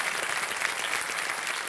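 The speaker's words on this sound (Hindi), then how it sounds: "इनका स्वागत एक बार कर देते हैं तालियों के साथ" A television quiz show's studio audience applauds, a dense, even wash of clapping that holds steady at moderate loudness throughout.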